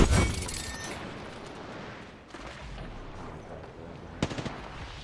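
Rapid bursts of gunfire in the battle-royale game Apex Legends, loud at the start, then a steadier rumble of distant shooting, with a sharp volley of quick shots near the end.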